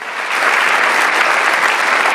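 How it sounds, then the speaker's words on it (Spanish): Loud, dense applause fills a church as the congregation claps for the Lord, a continuous even roar of many hands with no speech over it. "denle un aplauso al Señor"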